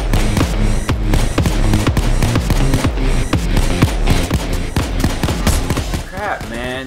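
Gunfire in the video game Payday 2, a steady barrage of rapid shots running through the whole stretch at close range, mixed with other game noise and a voice speaking over it.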